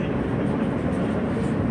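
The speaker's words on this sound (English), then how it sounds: "This is a Whitehall Street bound W's local train." Steady broadband rumble of a New York City subway W local train bound for Whitehall Street, heard from inside the car as a continuous close roar with no distinct clacks and no talk.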